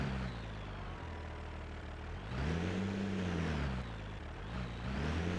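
Engine drone of an 1800 NB track intercooler tractor rated at 180 horsepower in a farming video game, a steady low rumble that swells and revs mid-way before settling, heard alone without talk.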